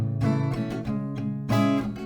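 An acoustic guitar strums the chorus chords of a song, with rhythmic strokes and a stronger accent near the end, played close and alone.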